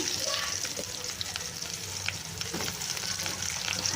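Onions frying for biryani in oil already used for frying fries: a steady, close, bubbling sizzle with crackles, continuous throughout.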